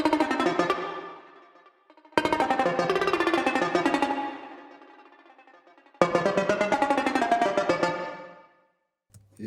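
Moog DFAM drum synthesizer lead sample with automated loop length, playing three bursts of rapid ratcheting, pitched pulses separated by short gaps, each phrase fading out, close and clear with no voices.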